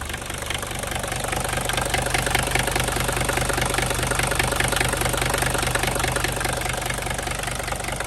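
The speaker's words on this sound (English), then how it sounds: "Oh, it's idling on its own." A 1976 Mercedes-Benz 300D diesel engine idles steadily, a rough, knocking rumble holding an even rhythm throughout without revving.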